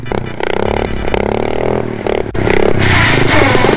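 A homemade snow mower built from leftover parts churns along in low gear, its engine roaring loud and close with harsh scraping and rattling.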